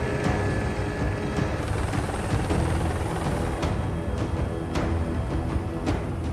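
A helicopter drones loudly and steadily with dense rotor noise throughout, heard from close by with no voices.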